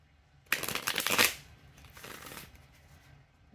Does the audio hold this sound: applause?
no